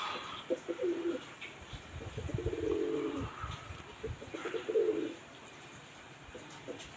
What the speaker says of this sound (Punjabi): ਉਹ ਵੱਡਾ ਕਬੂਤਰ ਲੰਘ ਗਿਆ